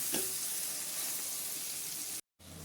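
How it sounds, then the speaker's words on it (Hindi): Spices sizzling and frying in a pan for a chana dal and lauki dish, a steady close crackling hiss that cuts out briefly near the end. "बहुत अच्छे से मसाले भुन गए हैं"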